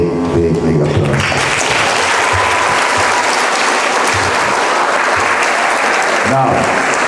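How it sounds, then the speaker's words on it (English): School students at an assembly give loud, sustained applause, a steady dense roar of clapping with crowd noise, and a speaking voice briefly heard at the start. "give Richard Stowe a big, big, big applause."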